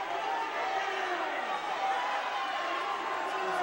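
Crowd at an Earlham men's college basketball game against Anderson, a steady loud wash of voices jeering a player.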